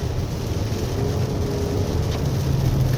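Inside a 2023 Toyota RAV4 Hybrid AWD driving a wet winding road in eco mode, the engine drones loud and steady under road and rain noise, with no speech.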